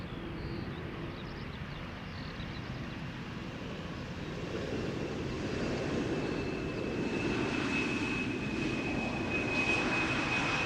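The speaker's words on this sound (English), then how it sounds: "This is KLM flight 1516 arriving from Norwich." KLM airliner arriving from Norwich and landing at Schiphol Airport, its engine roar a steady broadband rumble that swells slightly, with a thin whine rising in the later seconds, distant and continuous.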